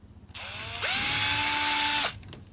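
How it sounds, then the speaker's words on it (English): A drill bit is run through a car part to clean it out so a cable can pass, producing one close, loud whirring burst of about a second that rises quickly, holds steady, then cuts off. "I'm just going to run a drill bit through there by hand just to clean it out"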